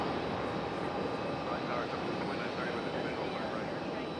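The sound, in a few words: Airbus A319 airliner touching down on runway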